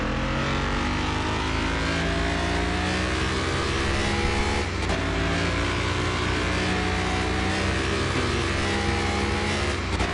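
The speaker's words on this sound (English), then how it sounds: "I love the choppiness of this car." A choppy car engine in Car Mechanic Simulator 2021 revs steadily with an uneven, lumpy idle that keeps pulsing for ten seconds, loud and close with no talk.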